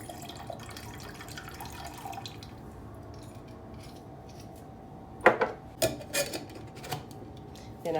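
Absolut vodka from two small bottles is poured into a tropical cocktail, starting as quiet trickling and turning into short, splashy gurgling pours near the end, close up in a quiet kitchen.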